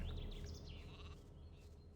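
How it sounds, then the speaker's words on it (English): A sheep bleats a few wavering calls in the video game Gothic 2, moderately close and heard on its own. "And some sheep."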